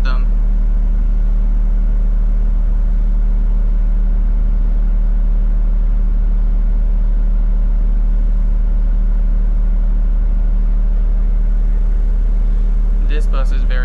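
A Grand River Transit city bus on route 27 runs with a loud, steady engine rumble and deep low drone from inside the cabin. It continues throughout, with a brief higher sound near the end.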